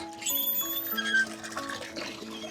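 Water pouring and trickling from a hand water pump, a steady liquid flow with bright squeaky tones from the pump handle mixed in, fairly close.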